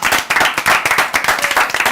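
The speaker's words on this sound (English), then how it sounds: "please, let's clap for TV3" A burst of dense, steady applause from a crowd, loud and close, with many hands clapping at once.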